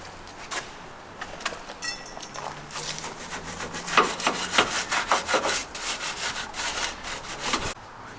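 A stiff brush scrubs years of built-up grime off a 1932 Ford roadster hot rod, giving steady rhythmic rasping strokes that pick up pace midway, close and fairly loud, with no talking.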